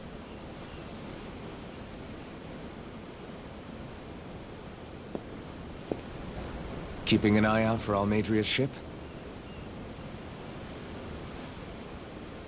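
Steady ocean surf washes and hisses beneath a ship's deck in the video game Tales of Arise, a continuous soft roar throughout, briefly overlaid by a spoken voice line near the end.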